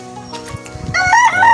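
A white Kelso gamefowl broodcock crows loudly and close, its long strained call rising after some soft clucking and rustling.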